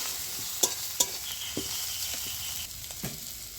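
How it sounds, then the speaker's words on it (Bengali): Spices with turmeric and small prawns are stir-fried in a pan, giving a constant sizzle broken by sharp scraping strokes of a spatula at irregular intervals, close up with no talking. "দিয়ে দিচ্ছি হলুদ। এবার ভালো করে এটাকে কষে নিতে হবে।"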